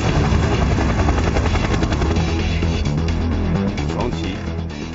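An aircraft, loud and close, with a dense rhythmic rotor-like chopping throb over a heavy low engine drone that stays steady and eases slightly toward the end.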